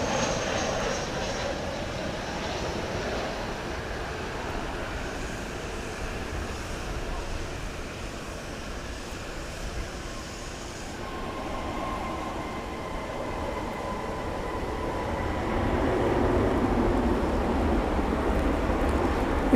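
An Alaska Airlines Boeing 737-800 landing at DFW Airport at night, its jet engine noise a broad steady roar that swells louder toward the end as the aircraft draws nearer.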